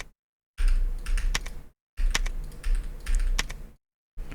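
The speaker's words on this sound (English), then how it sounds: "Loud keyboard? Yep. I got the clicky, clicky, clicky." A loud clicky mechanical computer keyboard rattles with rapid typing bursts during a Silent Hill 4 speedrun stream, close-miked, in three or four runs separated by brief silences, with no talking.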